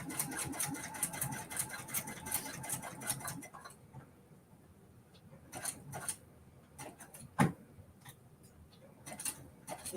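A sewing machine stitches a Kimberbell mini quilt in rapid ticking runs, stopping briefly and then starting again in short bursts, fairly quiet and close with no speech.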